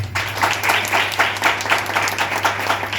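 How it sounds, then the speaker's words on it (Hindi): A church congregation at a Sunday service claps in a rhythmic, pulsing pattern, with rounds of hands beating together roughly twice a second over a low steady hum. "अच्छा लगे तो ताली मारो।"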